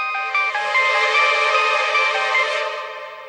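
A mobile phone rings with a bright electronic tone held steadily for about three seconds, loud and close, with no talking over it.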